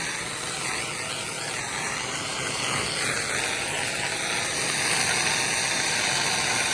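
A pressure washer engine runs at half RPM beside a pool screen enclosure, a steady close droning whine with a broad hiss that holds level throughout the clip with no talk.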